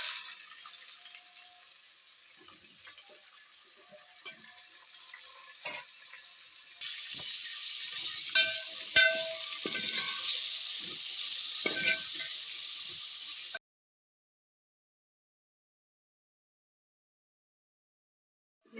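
Tomatoes, turmeric and chili hitting golden garlic in hot oil, a steady close sizzle that grows louder midway as the pan is stirred with occasional utensil scrapes, cutting to silence after about thirteen seconds.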